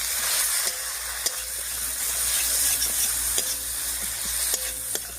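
Ginger, cumin and chilli pastes with turmeric are stirred into a hot pan for a shol fish curry, a continuous close sizzle punctuated by several sharp clinks and scrapes of the spoon against the pan.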